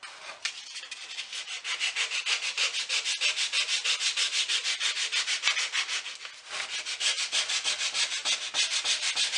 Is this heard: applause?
no